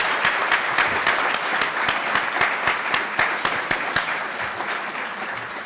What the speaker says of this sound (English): Let's just give one more round of applause for our panelists and our moderator